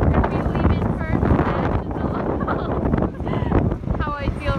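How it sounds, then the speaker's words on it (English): Strong wind buffets the microphone outdoors, a loud continuous roaring rush with gusty swells, while people talk over it. "It's hella windy."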